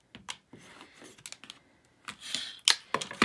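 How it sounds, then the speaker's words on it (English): Excess fabric is trimmed with a rotary cutter run along an add-a-quarter roller edge while foundation paper piecing. Short, crisp cutting and scraping sounds come close up in quick irregular bursts, with no talking. "Go ahead and trim that excess fabric."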